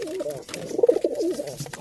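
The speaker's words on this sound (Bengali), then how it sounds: "দেখেন কবুতরগুলো চাল কীভাবে খাচ্ছে" Pigeons eating rice coo softly and repeatedly nearby, a low burbling series of calls with faint rustling in between.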